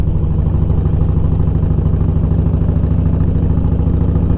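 A 1958 Harley-Davidson motorcycle with fancy exhaust pipes runs steadily up close, its loud, even low-pitched engine throb and exhaust rumble continuous throughout with no talking.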